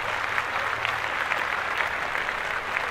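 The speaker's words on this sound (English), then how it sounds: "let's clap that up" Steady applause from a podcast group, continuous and moderately loud with a dense patter of many hands and no break.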